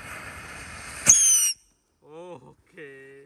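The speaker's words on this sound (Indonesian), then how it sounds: "Selanjutnya kita nyalakan mercon ayam jago." A rooster firecracker (mercon ayam jago) goes off with a fizzing hiss and a sharp shrieking whistle, then cuts out, followed by two brief higher whistling squeals.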